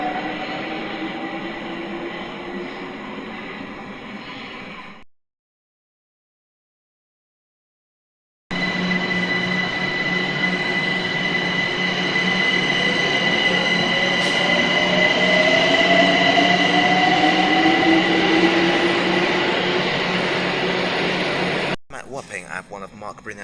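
A London Overground East London Line train passes with a loud, continuous rail rumble and wheel squeal. The sound cuts out briefly, then returns, swelling and fading near the end.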